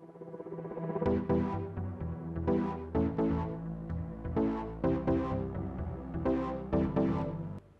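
An electronic remix intro plays alone: sustained synth chords over a steady low bass, with kicks, snares and taps punching in rhythmic bursts at moderate level.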